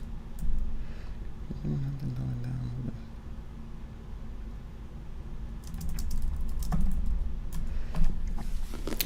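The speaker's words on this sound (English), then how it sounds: "Hold on, I'm typing something." Computer keyboard typing: soft scattered key clicks, then a denser burst of quick taps toward the end, with a faint voice and room noise in the background.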